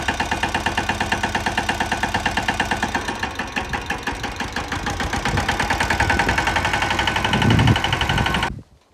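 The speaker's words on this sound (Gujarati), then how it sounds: "ભાઈ હાકે છે ટ્રેક્ટર" A heavy tractor diesel engine idles with a steady, rapid knocking chug throughout, loud and close on a farm, then cuts off abruptly near the end.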